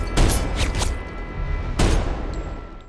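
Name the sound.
gunfire in a film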